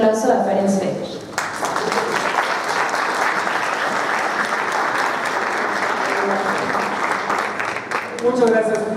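Audience applause at a business talk on entrepreneurship and franchising, a dense sustained burst of clapping that starts after a brief voice, holds steady and fades as a voice returns at the end.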